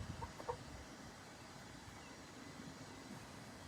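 Faint chickens clucking a few times near the start, then quiet outdoor background hum; distant and low in level, with no speech.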